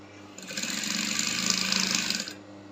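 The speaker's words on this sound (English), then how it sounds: "So I want to start up the sewing now." Sewing machine stitching the keyhole back of a corset, running in one steady continuous burst of about two seconds, close and clear with no talking.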